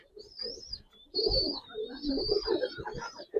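Giribaz pigeons in a loft, close cooing and chirping calls overlapping in bursts, with a thin high whistling tone drifting above and no talk.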